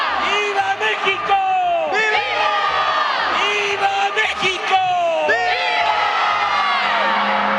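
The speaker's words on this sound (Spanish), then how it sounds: "Mientras el Zócalo retumbaba con el grito de independencia" Large crowd packed into Mexico City's Zócalo during the independence-night grito, cheering and whooping in loud, continuous waves, with scattered yells rising above the roar.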